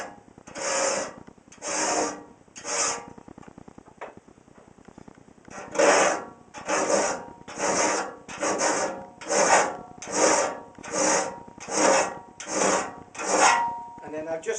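Rhythmic rasping strokes of a 5.5mm chainsaw file on the teeth of a circular saw blade for cutting firewood, about a dozen regular back-and-forth passes with a brief pause near the middle, close and clear.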